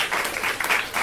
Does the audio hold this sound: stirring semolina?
no